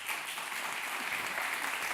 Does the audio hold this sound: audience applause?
yes